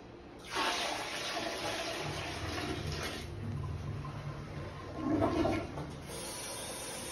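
Water is tipped out of a wash basin into a sink after a bed bath, a close rushing gush that starts suddenly, runs for a few seconds, surges again briefly, then settles into a low drain hiss.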